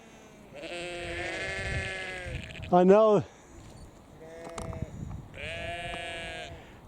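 Sheep bleat on a winter country walk in the Yorkshire Dales, a few drawn-out calls at moderate distance including one loud, wavering bleat, with people talking quietly around them.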